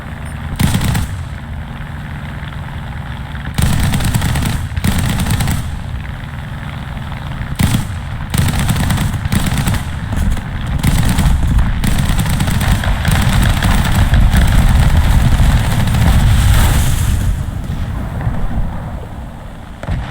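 Rapid bursts of machine-gun fire in a video game rattle out in rhythmic stretches over a constant aircraft engine drone, with loud explosive pops and some pauses between volleys.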